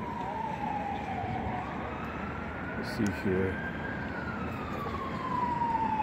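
An ambulance siren wails steadily on a street in El Paso, Texas, its rising and falling tone carrying through traffic noise as it approaches, with someone talking briefly over it.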